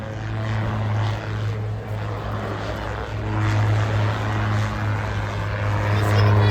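An autogyro flies at the Blackpool airshow, its propeller engine droning steadily and loudly throughout, swelling slightly near the end, with no talking.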